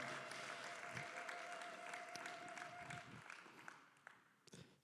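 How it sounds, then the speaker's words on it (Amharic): Church congregation clapping during a Sunday worship service, a dense continuous patter of hands that stays even, then thins out near the end, with crowd noise mixed in. "እልልታ ጭብጨባ ለጌታ እናቀርባለን"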